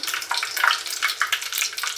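Rapid crackling and popping of mustard and cumin seeds in hot oil, a dense sputtering sizzle heard up close without any talking.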